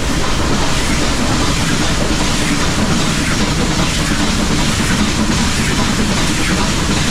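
Nilgiri Mountain Railway toy train on the rack railway to Ooty, heard close and loud as a continuous rumbling clatter of wheels and carriages with no break.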